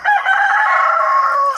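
A backyard chicken gives one short, close crow that holds steady for about a second and a half.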